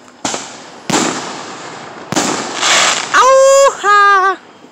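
Several loud Fourth of July firework bursts crack nearby in quick succession, followed by two shrill whistling rockets that squeal for about half a second each.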